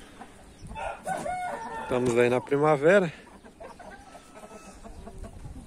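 Roosters crow outdoors on a farm in the rainy season, with one loud, clear crow in the middle and fainter clucks and calls around it, while someone talks over the scene.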